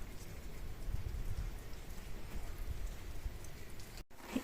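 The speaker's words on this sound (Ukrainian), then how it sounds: "Дивіться, який у нас дощ іде." Steady rain patters and hisses outdoors, a soft constant wash with occasional heavier drops, ending with a brief abrupt cut.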